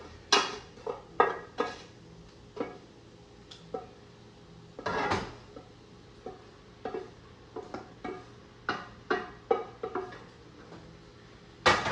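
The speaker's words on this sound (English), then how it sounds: "So I'm gonna go ahead and mix everything up here." A spoon clatters and scrapes through a mushroom and sweet potato sauté in a crowded skillet, a string of sharp knocks and clinks at irregular intervals against a quiet background, with no voices.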